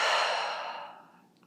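A single long, airy exhale during a guided breathing exercise before gentle spinal movements, close and fairly soft, starting full and fading out gradually over a second and a half.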